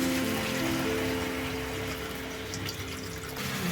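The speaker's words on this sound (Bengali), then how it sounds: "জল দিয়ে দিলাম বেগুনের তরকারিতে" Water is poured into an eggplant curry cooking in a pot, giving a steady, close splashing and gurgling rush that tapers off near the end.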